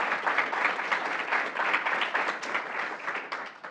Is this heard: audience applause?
yes